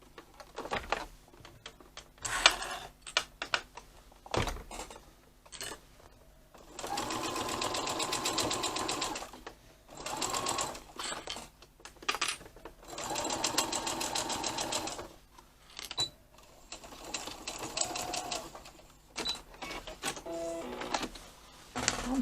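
A sewing machine stitches a tote bag, running in bursts of rapid rhythmic clatter lasting a few seconds each, separated by short pauses and small handling noises, close and fairly quiet.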